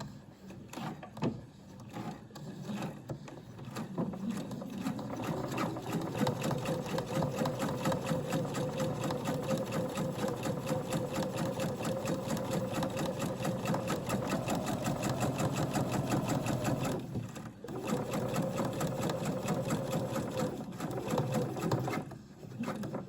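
A sewing machine stitches a pocket onto the front of a dress, running in a steady, fast rhythmic whir close by for most of the stretch, with brief pauses near the start and around the seventeen-second mark.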